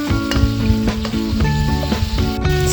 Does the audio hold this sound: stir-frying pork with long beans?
yes